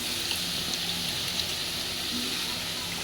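Kohlrabi pieces frying in a hot pan for a bean (shim) curry give off a steady, close hiss and crackle that stays even for a few seconds with no voice.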